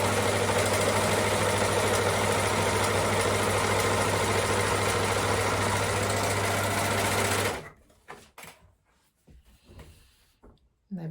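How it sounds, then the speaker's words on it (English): An overlocker finishes the raw edges of a plain seam on denim, a fast, loud mechanical whirring that runs steadily for several seconds before stopping abruptly, followed by quiet handling clicks and rustles. "to stop the edges fraying, you can either zigzag it or overlock it. I'm going to go ahead and overlock mine."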